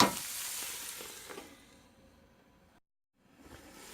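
Frittata vegetables sizzle in a frying pan with a steady hiss that starts strong and fades, breaks off briefly, then picks up again faintly.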